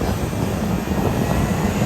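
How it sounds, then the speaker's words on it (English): Boeing airliner at St. Maarten, a loud, continuous broadband engine roar that stays steady and close throughout. "Boeing. Big plane."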